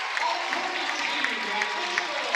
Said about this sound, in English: And a standing ovation for East Alton-Wood River.